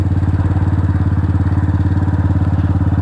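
Df250rts motorcycle engine idling at around 2,000 rpm, a loud steady rapid thumping pulse with even rhythm, close up and alone.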